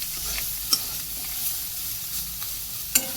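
Ground cumin and coriander sizzle in a hot pan for spicy Maggi noodles, a steady close frying hiss broken by a few sharp clicks of a spoon stirring against the pan.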